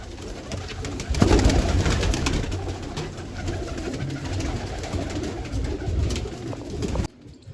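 Pigeons cooing close by over a steady rustling background, the low calls continuing for several seconds before cutting off abruptly.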